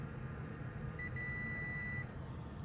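A multimeter set to continuity mode gives one clear sustained electronic beep lasting about a second, with a brief stutter at the start, over quiet background hum.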